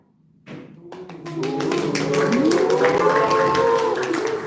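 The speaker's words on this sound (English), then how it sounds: "Team 1, give a shout out. Whosoever is cheering for team 1." An indoor audience at a Toastmasters club event cheers and claps for a team, erupting from quiet into rising shouts and applause that swell and hold loudly, with voices mixed in.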